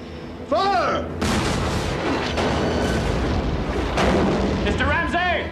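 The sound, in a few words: ironclad warship cannons firing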